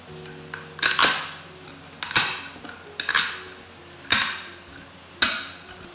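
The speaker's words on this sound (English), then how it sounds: "use something flat and heavy, like a frying pan, and press down on it" Five sharp metallic knocks at uneven intervals, a heavy frying pan pressed and tapped down onto peppercorns on a board to crush them, close and crisp.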